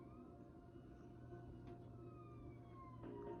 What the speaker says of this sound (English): Jenny could hear police sirens in the distance.